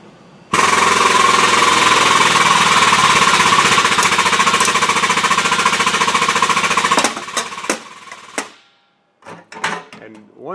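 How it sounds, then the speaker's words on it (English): A hydraulic die punches a large round opening in a panel with a loud, steady mechanical grinding that runs for about seven seconds. A few sharp snaps follow as it ends, and then come quieter clicks. "there's valleys in the die, and that's the little snaps you hear"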